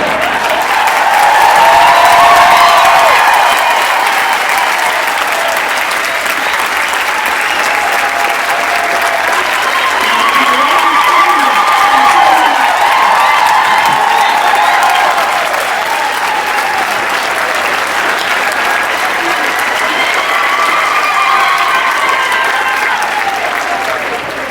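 Sustained, loud applause fills a large hall at a tribute to Nelson Mandela given by Desmond Tutu, steady and dense throughout with faint swells and no voices standing out.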